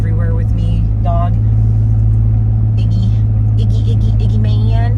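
A car cruising along with a dog aboard, heard from the cabin as a constant low engine and road rumble, loud and steady, while a person talks over it throughout.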